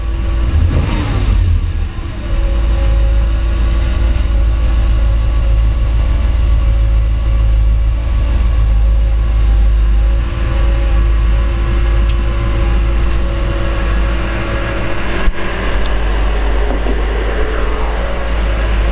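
A 1955 Chevrolet Bel Air two-door hardtop with a ZZ4 engine and 2¼-inch exhaust rumbles steadily at a loud, close idle after starting, with a deep continuous drone and no talking.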